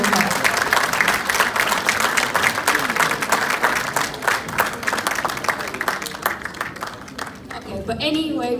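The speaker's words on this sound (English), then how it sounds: "I just want to give Minaxi a massive round of applause" Audience applause at a Brit Asian pageant event, loud and sustained, with a raised voice speaking over it toward the end.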